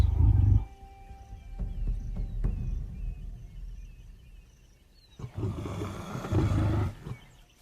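An aggressive, half-blind lioness roars a hostile warning at rival lions, with a deep, loud roar at the start and a longer, rumbling bout near the end, separated by quieter grunts and breaths.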